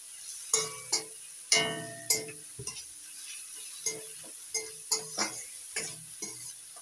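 A spoon mixes salt and turmeric into a frying pan for a bathua greens egg curry, knocking and scraping in an uneven rhythm of sharp clinks over a faint, quiet sizzle.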